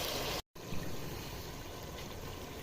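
Water, about a litre, poured into a pot of beef for nihari: a continuous splashing, filling gush with one brief dropout near the start, close and moderately quiet.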